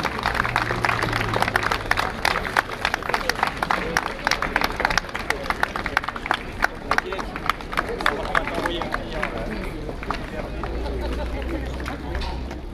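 Crowd applause at an outdoor canine show in Monclar de Quercy as the top ten dogs parade: steady rhythmic clapping from many spectators, continuous throughout, with an announcer talking over it and crowd chatter underneath.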